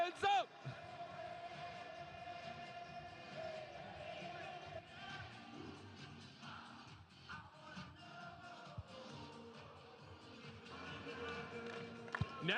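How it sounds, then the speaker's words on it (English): A crowd at the Firefighters headliner game against the Texas Tailgaters in Richmond claps along steadily, with sharp repeated hand claps over dense crowd noise and voices throughout. "Now keep it clapping as we shovel."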